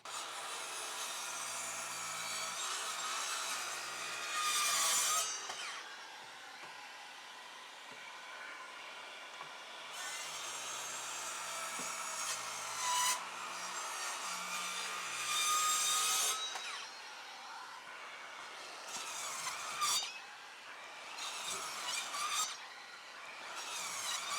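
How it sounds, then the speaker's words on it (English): A cordless circular track saw cuts through 65 mm timber with a steady, rasping whine that surges and eases over a series of cuts, near and continuous, with no speech. "We're gonna do series of cuts to see if the saw will stop, stutter, or will it just go through the timber."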